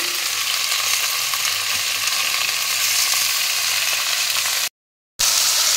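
Mixed fresh vegetables frying in oil in a pan with spices, a loud, steady, dense sizzle running continuously with no talk, broken only by a brief cut near the end.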